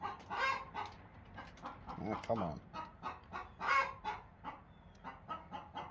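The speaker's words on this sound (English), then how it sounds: "that chicken might become stew pretty soon" A chicken clucks repeatedly nearby in a woodturning workshop, a string of short, uneven clucks and squawks at moderate loudness, with someone briefly speaking.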